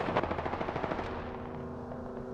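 Rapid automatic gunfire from a weapon in the Apex Legends shooter game, a fast burst of close shots that trails off into a lingering echo.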